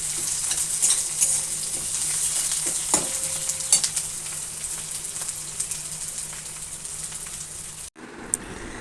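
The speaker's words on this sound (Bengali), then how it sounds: "ক্যাপসিকাম এগুলো হালকা লাল করে ভেজে নিয়ে" Onion and capsicum frying in a pan until lightly reddened give off a steady, close hiss of sizzling with occasional stirring knocks. The sizzle drops out abruptly near the end, leaving quieter room sound.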